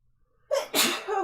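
A single close sneeze with a sharp intake of breath followed by an explosive burst, in an otherwise quiet room.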